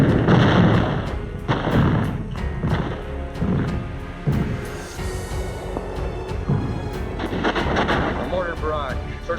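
A wartime mortar barrage on Iwo Jima sends repeated heavy booms and rumbling blasts rolling one after another across a full, noisy battlefield soundscape, dense and continuous throughout.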